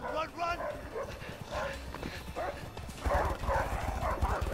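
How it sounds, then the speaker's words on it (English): Dogs bark in the A Way Out video game during an escape chase, a few short barks in bursts, partly covered by people talking over a busy game soundtrack. "I knew dogs were coming."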